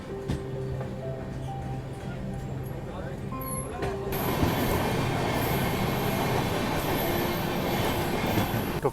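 The Kaifiyat Express pulls into Ayodhya Cantt Junction railway station with a loud rumble of rolling carriages, squealing and clattering wheels that grow denser midway through, and voices heard over the noise.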